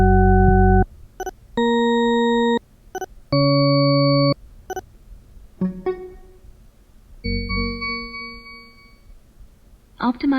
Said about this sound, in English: I'll also show you the process that this uses to optimize the noise canceling.